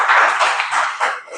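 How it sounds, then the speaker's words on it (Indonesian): Short burst of audience clapping in a classroom-style session, a few uneven claps fading out within a second and a half. "Kasih tepuk tangan untuk Zakia."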